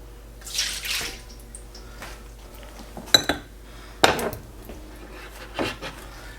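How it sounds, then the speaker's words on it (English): A cup of orange juice poured for a chicken marinade, with short watery trickles and sharp clinks of dishes and utensils in a quiet kitchen. "for my marinade, I'm gonna do a cup of orange juice"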